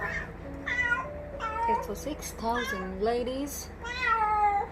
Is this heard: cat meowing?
yes